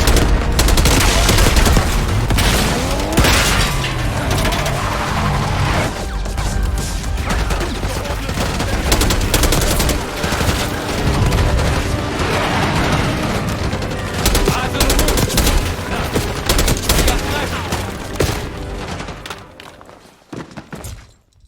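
Gunfire in Call of Duty Black Ops 6 rattles almost without pause across the whole stretch: dense automatic bursts, heavy thumps and crashes, loud and close, thinning out only in the last seconds.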